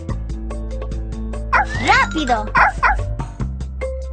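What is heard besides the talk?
puppies barking in Dora the Explorer video game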